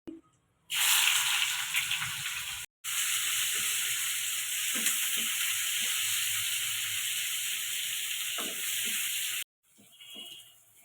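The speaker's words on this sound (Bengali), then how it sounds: "তেল দিয়ে দিয়েছি, দারচিনি, লং, এলাচ ফোড়ন দিয়ে দিচ্ছি।" Cinnamon, cloves and cardamom sizzle loudly in hot oil, a steady dense hiss for most of the stretch, cut off by brief silent gaps and quieter at the end; no one talks.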